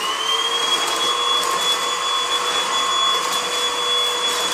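A Dibea M500 cordless stick vacuum runs steadily and close, with a constant motor whine and a high-pitched tone holding throughout, with no pauses or voices.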